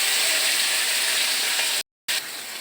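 Raw green bananas frying with spices and nigella seeds in a pan, giving a loud, dense, continuous sizzle that cuts out briefly near the end and resumes, close and without talk.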